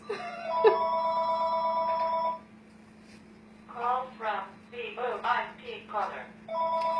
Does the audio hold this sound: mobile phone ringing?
yes